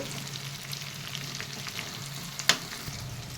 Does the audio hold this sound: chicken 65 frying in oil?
yes